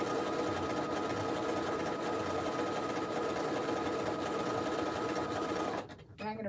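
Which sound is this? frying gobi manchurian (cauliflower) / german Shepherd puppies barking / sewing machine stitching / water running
sewing machine stitching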